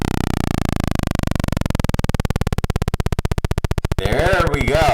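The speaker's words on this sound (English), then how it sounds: "let me turn it down a bit so we might be able to hear the individual squares" A modular synthesizer's very thin square pulse wave is dropped in pitch until it breaks into a rapid stream of separate clicks, followed by someone talking over the end.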